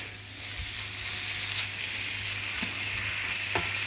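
Banquet rice starting to cook in a pan on an induction hob, giving a steady soft sizzle with faint stirring scrapes throughout.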